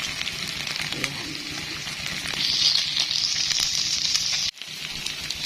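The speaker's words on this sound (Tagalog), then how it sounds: "Para bagang na semi-prito siya." Meat frying in a pan for adobong kangkong, a steady hissing sizzle close by with light crackles and occasional stirring, briefly cutting out near the end.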